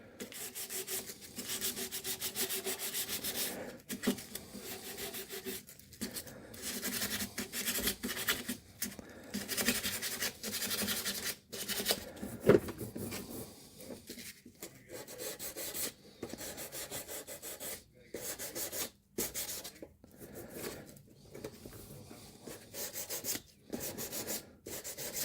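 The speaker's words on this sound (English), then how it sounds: "Just take the edge of the sandpaper and give it a little scuff there." Sandpaper scuffs the dirty spots on a 1991 Takamine TD 32 acoustic guitar under restoration, with repeated close, raspy rubbing strokes and brief pauses in between.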